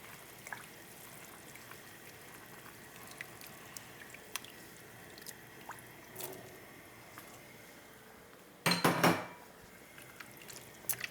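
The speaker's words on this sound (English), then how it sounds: "Give it a good stir." Chickpeas stirred into a vegetable green curry with coconut cream, faint soft drips and clicks through a quiet stretch, then one louder wet scrape of the spoon against the pot near the end.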